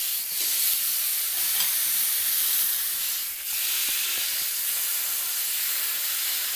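Meat laid on a barbecue grill hisses and sizzles in a broad, steady rush of frying noise, swelling briefly a couple of times, with no talking.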